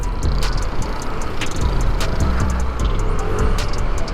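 A CVT-upgraded motorbike with new center and clutch springs revs hard toward 7,000 to 8,000 RPM, its loud, steady engine drone held close and unbroken for the whole stretch.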